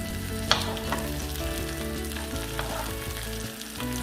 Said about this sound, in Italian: E le lasciamo soffriggere fino a che diventeranno morbide.